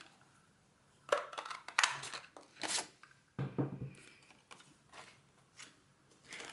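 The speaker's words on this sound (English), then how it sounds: "we're going to use the Artisan label punch to punch it out" An Artisan label punch clicks and crunches close by through card or paper, giving several short mechanical snaps and squeezes in irregular bursts against a quiet background.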